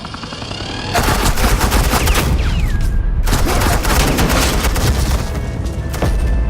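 Suppressing gunfire in a Batman Telltale Series game scene, with loud, sustained automatic bursts that rattle on continuously, break off briefly, then resume with booming reports.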